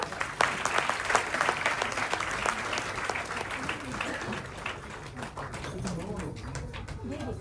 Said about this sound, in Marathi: for our artist guys, for our actors एकदा टाळ्या वाजवा